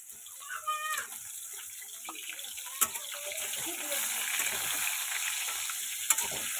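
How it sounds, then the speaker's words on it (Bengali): Food is lightly frying in a pan with soft, steady sizzling and occasional scraping of a stirring utensil, a few sharp clicks punctuating the low crackle, with a brief faint voice early on. "জাস্ট একটু এপিট এপিট করে হালকা করে একটু ভেজে নেব"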